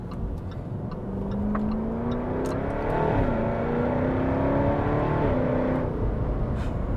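A Jaguar F-Type sports car accelerates hard from inside the cabin, its engine note climbing through the revs with a couple of gear-change dips, loud and continuous with no talk.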